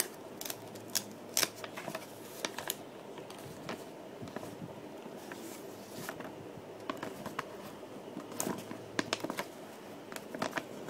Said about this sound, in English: I got my scissors ready.